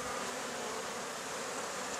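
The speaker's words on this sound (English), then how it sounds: "Real nice bees. They haven't been attacking me much. They're just congregating up there." Honeybees swarm around a wild hive with exposed honeycomb, a steady dense buzzing that stays constant and fairly close throughout, with no voices.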